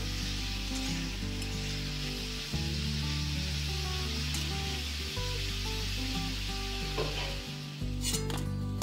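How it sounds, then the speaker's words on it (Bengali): Shrimp fry lightly in hot oil, giving a loud, steady sizzle that runs throughout with small shifts in intensity as the pieces are turned, and no voices. "যেহেতু চিংড়ি মাছ বেশি ভাজা যায় না, ভাজলে শক্ত হয়ে যায়, সেজন্য 1 মিনিট মতো আমি হালকা করে এপিট ওপিট করে ভেজে তুলে নিচ্ছি।"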